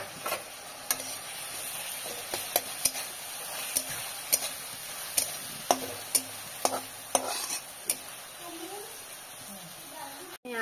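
Vegetables cooking in a pan with salt and turmeric, a soft steady sizzle with repeated sharp clicks of a utensil stirring and tapping against the pan, with a voice talking over it.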